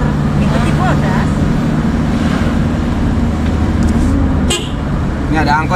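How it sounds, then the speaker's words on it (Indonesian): An angkot minibus climbs a hill road near Cibodas in busy traffic, its engine droning steadily while a horn toots briefly, with people talking close by over the road noise. "Ini ada angkot yang ke atas nih."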